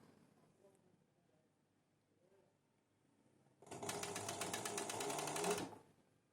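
A sewing machine stitching a t-shirt neckband runs in one loud burst of rapid, even mechanical rattling for about two seconds, after quiet handling sounds.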